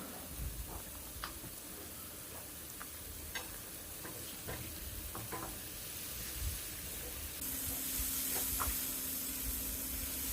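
Tomatoes sautéing with onion, green chilli, garlic and salt in a pan for street-style spicy paneer chops, a steady close sizzle with scattered stirring clicks, growing slightly louder and brighter toward the end.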